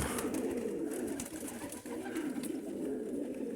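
Pigeons coo steadily at a pigeon loft, a dense continuous murmur of overlapping coos from several birds close by, with no talk.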